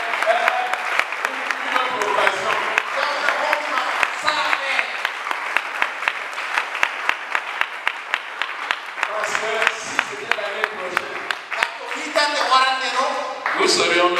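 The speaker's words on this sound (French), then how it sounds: "Je pensais que tu allais applaudir." A church congregation in Maroua applauding during a service, a sustained crowd of clapping hands with sharp individual claps standing out, mixed with voices and speech throughout.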